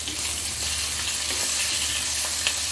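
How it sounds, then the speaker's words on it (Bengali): Raw green banana and potato pieces frying in hot oil with salt, a steady, dense sizzle that continues unbroken for the whole stretch, with faint scraping of stirring in the pan. "এখন শুধু একটু লবণ দিয়ে ভেজে নিব"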